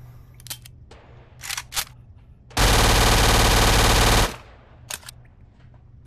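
A loud, sustained burst of automatic gunfire from a weapon in the VR shooting game Gun Club VR, lasting nearly two seconds, with a few faint clicks and handling sounds before and after.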